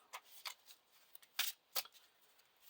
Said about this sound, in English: We're going to shuffle our 6 cards that we have into the deck